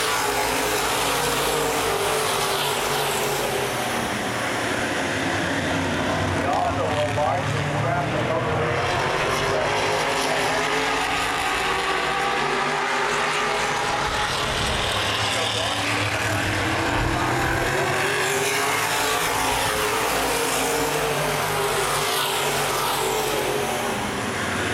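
Open wheel modified race cars roar around the Baer Field Speedway oval in a feature race, a dense continuous engine drone that rises and falls as the pack passes, loud and steady throughout with a race announcer talking over it.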